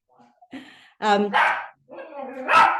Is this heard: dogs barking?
yes